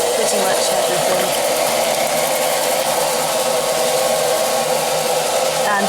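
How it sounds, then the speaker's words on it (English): An Ilife V3s Pro robotic vacuum cleaner runs with a constant loud whirring motor and fan hum while sucking up hay, grass and litter from the floor, close and unbroken, with a voice faintly underneath. "now vacuuming up the hay, the grass and the litter which is in his way"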